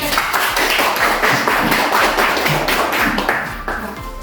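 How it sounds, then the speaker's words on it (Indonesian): Students clapping in a classroom after a group presentation, loud and dense close-up handclaps with thumping desk taps mixed in, sustained at a steady level and easing slightly at the end. "Tepuk tangan dulu"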